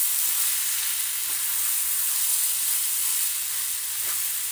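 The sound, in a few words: poha frying and sizzling in a pan on full flame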